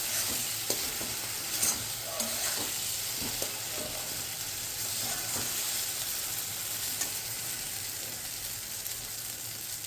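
Semolina frying in oil for upma while a spoon stirs it, a soft continuous sizzle broken by light scraping and tapping against the pan, fairly quiet and without talk.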